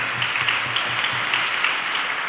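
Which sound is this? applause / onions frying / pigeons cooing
applause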